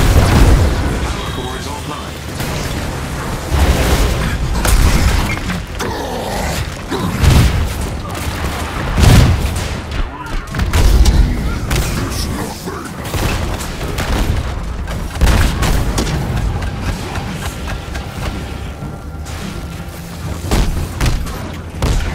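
Hulk smashing a station tower in Marvel's Avengers on PS5, heard as a dense, continuous run of heavy booms, crashes and bursts of destruction, loud and close throughout with game effects layered over one another.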